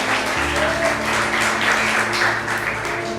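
A church congregation applauds together in praise during a worship service, a dense and continuous wash of clapping filling the room from start to finish with a low musical hum beneath it.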